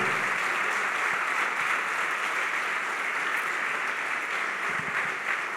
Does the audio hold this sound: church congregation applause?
yes